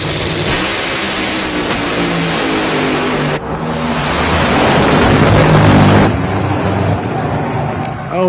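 Hot Wheels toy funny cars, including a silver and orange T-Rex Funny Car, race down a track with a loud, steady rushing and whirring roar that surges and shifts through a few sharp transitions.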